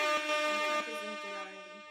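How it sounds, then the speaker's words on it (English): An air horn sound effect blasts loud and close in a podcast setting, a sustained brassy tone that holds for about two seconds and tapers off slightly toward the end. "we got the air horns for it"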